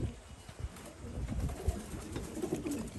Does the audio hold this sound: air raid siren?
no